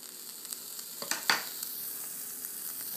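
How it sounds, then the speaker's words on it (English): Steady sizzling hiss of food frying in a pan, with a few brief crackles and pops popping up over the constant fizz. "Sizzling!"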